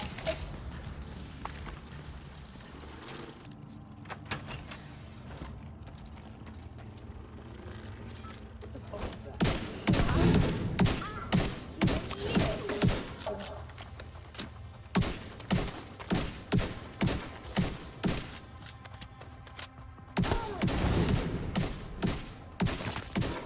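Gunfire in the shooter video game Division 2, bursts of loud, rapid automatic shots in the second half, fairly close, after a quieter stretch with a voice talking.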